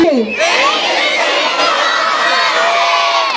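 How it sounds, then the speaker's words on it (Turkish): A crowd cheering, shouting and clapping at a school opening ceremony, with children's high voices prominent in a loud, continuous roar that holds steady for several seconds. "Kuvvetli alkışlarınızı."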